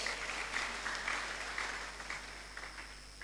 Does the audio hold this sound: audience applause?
yes